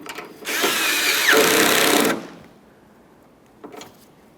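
A power tool snugging a 10mm mounting nut on a trunk lid lift support of a 1994-1997 Honda Accord, one loud whirring burst of about two seconds, then quiet and a short faint clatter.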